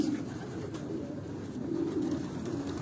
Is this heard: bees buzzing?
no